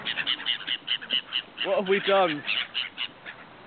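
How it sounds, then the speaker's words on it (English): A flock of birds swarms after a thrown biscuit, with rapid, overlapping calls close by. A person speaks briefly in the middle. "attack of all the birds"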